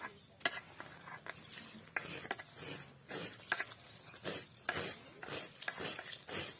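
Pitha flour being mixed by hand with hot water, with soft irregular stirring and squelching taps and occasional sharper clinks against a bowl, close and fairly quiet.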